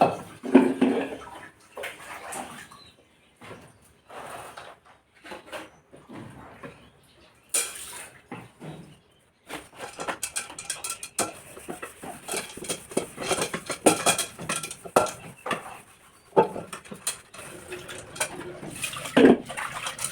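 Scrubbing and clanking of a blackened metal cooking pot being washed, with running water and irregular bursts of scraping and rattling.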